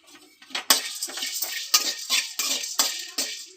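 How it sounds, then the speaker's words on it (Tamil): Cloves dropping into a pan while roasting spices for homemade masala powder: a series of light, dry rattles and scrapes, close up, like a spoon stirring the whole spices against metal. "கிராம்பை போட போகிறோங்க"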